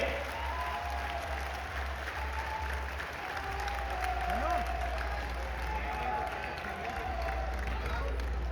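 Applause from a large crowd at a Sanatan Ektaa Yatra religious rally in India, a steady mid-level wash of clapping with a faint murmur of voices, no single claps standing out.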